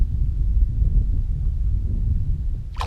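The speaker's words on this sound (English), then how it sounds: "that's how much the wind's blowing" Wind blowing outdoors on cold winter water during bass and crappie fishing, a loud, steady low rumble buffeting the microphone throughout, with no voices.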